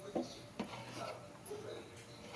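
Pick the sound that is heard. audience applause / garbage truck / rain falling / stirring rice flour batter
stirring rice flour batter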